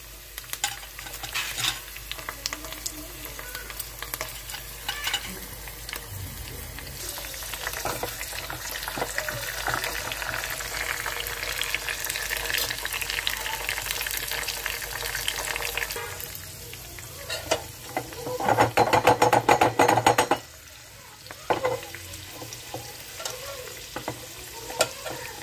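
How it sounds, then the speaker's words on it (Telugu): Mustard seeds, urad dal, chana dal, cumin, garlic and curry leaves spit and crackle in hot oil as a South Indian tempering, a dense sizzle that runs nearly throughout with a louder popping stretch near the end. "ఈ లోపల పోపులు వేపుకుందామండి"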